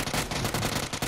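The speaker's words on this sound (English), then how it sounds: "He shot the building that killed me." Rapid automatic gunfire from a PUBG match crackles in a dense, loud burst of shots lasting about a second.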